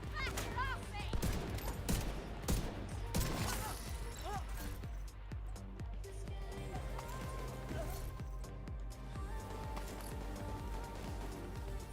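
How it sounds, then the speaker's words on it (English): Gunfire in The Division 2 rattles in quick bursts and scattered shots amid game combat noise, with voices talking over parts of it. "Who are you shooting at?"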